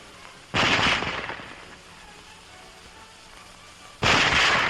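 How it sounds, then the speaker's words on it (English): German Model 98K rifle firing, two loud sharp shots about three and a half seconds apart, each with a short reverberant tail, heard alone. "Loading and firing the Model 98K is the same as our own Springfield, with the exception of the sight adjustment."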